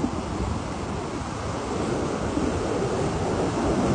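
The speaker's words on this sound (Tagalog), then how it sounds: "Dike dito kasi dito yung malakas ang ampas sa alon." Strong surf crashing onto a beach in the Philippines, a steady, loud roar of breaking waves mixed with wind buffeting the microphone, continuous with no talk.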